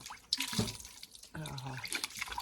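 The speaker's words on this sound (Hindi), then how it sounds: "बस अब मैं भी हाथ मुँह धोता हूँ" Cold tap water runs and splashes as someone washes their hands and face outdoors in Himachal, a steady close gush with drips and a voice briefly heard over it.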